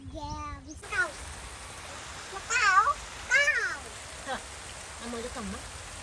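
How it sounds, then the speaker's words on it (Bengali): Rain falling in the first downpour of the year makes a steady, broadband hiss throughout, beneath a cat's repeated meows and brief talk. "দেখেন বৃষ্টি শুরু হয়ে গেছে"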